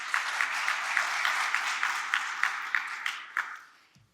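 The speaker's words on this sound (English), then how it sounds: "If we could have a round of applause for our panelists." A panel-discussion audience applauds the panelists, a brisk, fairly close round of clapping with distinct individual claps that tapers off and fades out toward the end.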